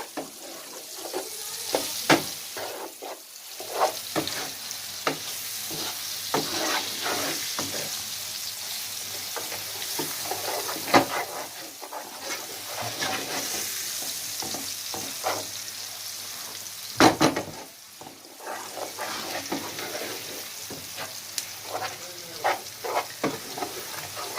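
Tomato paste sizzles and fries in a pan for a sustained stretch, with a spoon scraping and stirring it in repeated bursts, close and steady, no voices.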